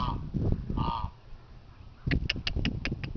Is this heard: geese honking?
yes